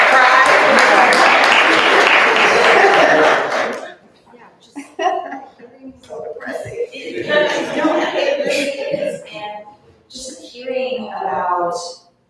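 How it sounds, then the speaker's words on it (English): Applause from an audience at a talk on democracy and The 1619 Project, a dense burst of clapping for about four seconds that cuts off, followed by speech and some laughter. "I'm going to clap for that prize."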